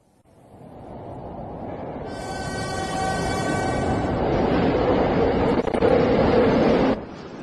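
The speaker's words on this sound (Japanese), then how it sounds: "まもなく一番線に上り電車が参ります。" A commuter train pulls into a Tokyo station platform, its rumble building steadily over several seconds with a rising rail screech before cutting off abruptly near the end.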